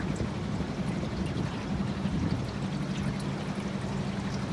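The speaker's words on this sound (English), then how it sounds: "It does have water flowing." A small hidden waterfall at Lake Livingston, Texas, rushes in a constant broadband roar, close and loud, steady for the whole stretch with no voices.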